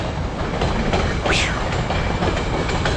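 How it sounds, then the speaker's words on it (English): A train passes on the rail line, its wheels giving a steady broadband rumble with faint clickety-clack and a brief high squeal near the middle, continuous from start to end. "There goes the train."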